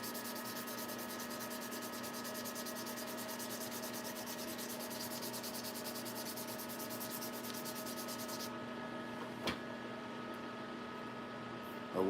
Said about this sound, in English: Trying to do some fine sanding, make sure I get all the scratches out